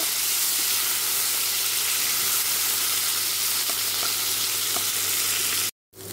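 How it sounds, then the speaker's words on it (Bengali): Steady, close hissing and sizzling of potatoes frying in oil goes on without a break, then cuts off briefly near the end. "আলুগুলো হালকা ভাজা হয়ে গেছে"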